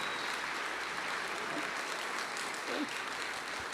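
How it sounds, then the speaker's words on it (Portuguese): A church congregation claps in applause during a Bible class, a steady wash of many hands throughout, moderately quiet and heard from some distance, with no speech. "Merece uma salva de palmas"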